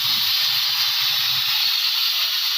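Boiling salted water in a pot as rice goes in, a steady loud bubbling hiss that runs unbroken with a faint low rumble underneath, no talk.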